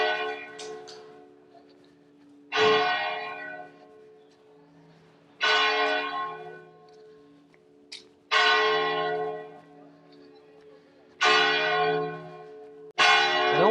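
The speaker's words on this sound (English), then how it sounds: "Those bells, because it's 10 o'clock in the morning." Church bells in A Coruña, Spain ring at ten in the morning, with loud, resonant strikes repeating every few seconds and long humming decays between them, heard close and alone on a city street.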